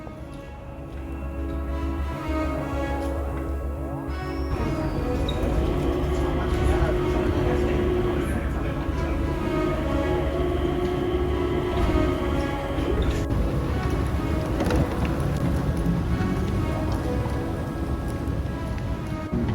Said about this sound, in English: hopping on the air train to get to Terminal 1